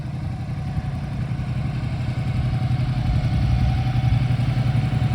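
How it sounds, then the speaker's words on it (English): A 1971 Triumph Bonneville custom cafe racer motorcycle engine idles with a steady, deep, pulsing burble and a light mechanical clatter, close and fairly loud throughout with no talking. "Nice looking bike. And it sounds so great."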